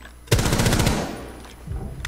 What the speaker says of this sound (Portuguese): deu um tiro muito sem querer